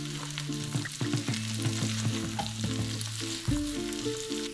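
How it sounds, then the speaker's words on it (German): Minced meat and potatoes fry in a one-pot dish while being stirred, a loud, close sizzle broken by scraping and knocking of the spoon against the pot, with a brief lid-like clatter near the end. "Einmal leicht umrühren."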